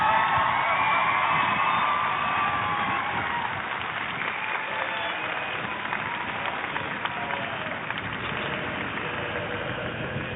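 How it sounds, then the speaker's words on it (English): A crowd at the Rolex eventing horse trials cheers a rider, with a broad, sustained roar of applause and whoops heard from a distance, muffled and continuous for about ten seconds. "She's getting a huge cheer there from the crowd."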